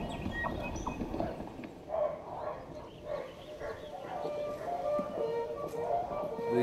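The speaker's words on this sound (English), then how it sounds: "The horses that you hear are the sounds of a riding school." Horses clip-clop at a riding school in an open urban space, steady hoof beats over a busy ambient background, with a dog barking and voices mixed in.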